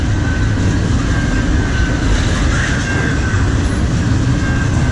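A CN intermodal freight train approaches as a broad, constant rumble of rolling wagons, with a faint high tonal whine layered above the steady roar.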